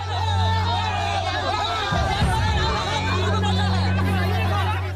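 Angry crowd noise at a protest in Bihar, people mobbing a politician's car after a poisonous liquor tragedy, a dense wash of overlapping shouting voices with a steady low hum underneath and a louder rough burst midway.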